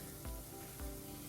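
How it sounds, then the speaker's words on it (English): Dumplings frying in a pan of hot oil alongside ackee and saltfish, giving a steady close sizzle with two soft low thumps as they are turned. "Now it's been 8 minutes since I've been frying my dumplings"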